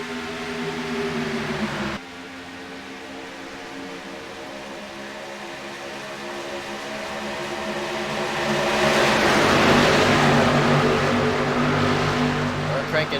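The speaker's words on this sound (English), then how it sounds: "Hear the roar of the engines." Engines of a pack of stock cars in an iRacing race at Daytona roar steadily under talk, swelling louder on the back straightaway with a broad rushing drone.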